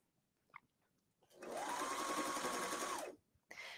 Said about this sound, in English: Now, I just started stitching and then came over to this line.